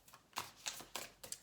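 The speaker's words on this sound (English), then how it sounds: "I did want to shuffle on camera, of course." Tarot cards are shuffled up close, quick crisp riffling bursts repeating in a rapid rhythm against a quiet background.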